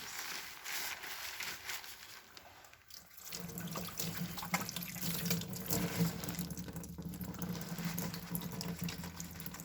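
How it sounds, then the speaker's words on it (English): Water runs from a tap into a sink in a biomedical laboratory as hands are washed, a steady close rush that thickens partway through as the hands move under the stream, with light splashing and no talking. "as a final step, I will wash my hands."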